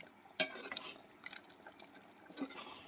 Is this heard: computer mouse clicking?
no